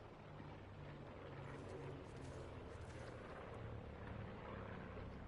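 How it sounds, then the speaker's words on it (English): An aircraft drones overhead in the Call of Duty Black Ops 4 Blackout mode, a steady faint engine rumble with a low hum that holds level for the whole stretch, with no talk. "Might be a plane actually."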